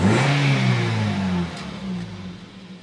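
A Toyota Vios engine revs up loudly close by, its pitch climbing and then easing off over a few seconds, heard alone without talk.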